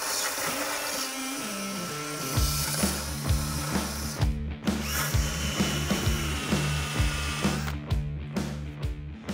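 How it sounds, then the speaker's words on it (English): Wire wheel on a power tool scrubbing rust from a Chevy Silverado cab corner, a continuous grinding whir with rhythmic pulses as the brush is pressed and lifted, loud and close with no talking. "grab the wire wheel here, we'll clean all of this up"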